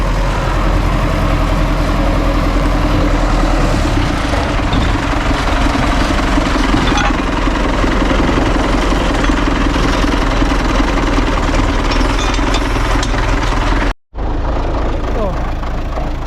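Engine of an MTZ-80 tractor running steadily in a field, a loud continuous low rumble with a brief cutout near the end.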